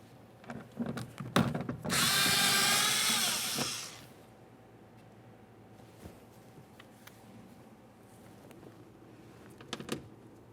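A power tool spins out 8mm bolts from a Ford Fusion rear door: a few short clicks and bursts, then one loud sustained whir of about two seconds, followed by quieter handling clatter and a final brief burst.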